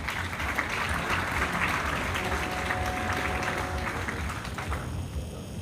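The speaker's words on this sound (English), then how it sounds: "Let's have one last round of applause for all of our livestock exhibitors." An audience at the Minnesota State Fair FFA awards show gives one last round of applause for livestock exhibitors, a broad steady patter of many hands, moderately loud and fairly distant, holding for several seconds before thinning.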